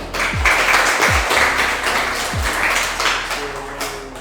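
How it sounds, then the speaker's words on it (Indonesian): Students in a classroom give a brief round of applause for a classmate, a moderate spatter of hand claps mixed with a few low thuds and some background voices. "Beri tepuk tangan dong untuk Moni"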